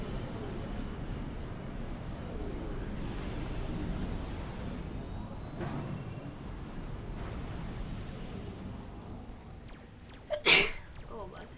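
A single sharp sneeze bursts out near the end, loud and close, over a low rumble of game noise and someone talking.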